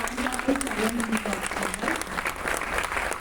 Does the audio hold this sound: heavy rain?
no